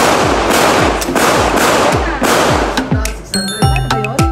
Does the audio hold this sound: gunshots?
yes